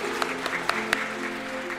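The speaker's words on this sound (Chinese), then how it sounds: "拍手拍手，谢谢。" A church congregation claps after candles are blown out at a birthday celebration during a Sunday service, giving a steady wash of applause with a few sharper claps standing out.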